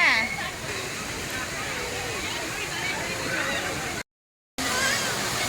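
Children splash and play in the water at a waterfall in Thailand, with steady rushing water throughout and overlapping voices and chatter; a brief dropout occurs near the end.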